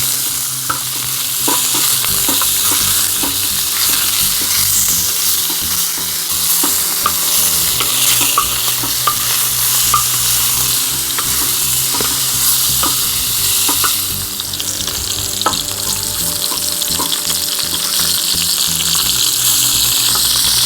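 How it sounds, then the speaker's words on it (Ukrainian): Potatoes fry in rendered pork belly fat in a skillet, a steady loud sizzle running the whole time with frequent stirring scrapes and clinks from utensils against the pan. "Спочатку обсмажимо під підчеревинку щоб картопелька обсмажувалася на її жирку."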